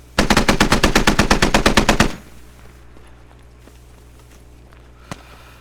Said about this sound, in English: There's a shot to my right.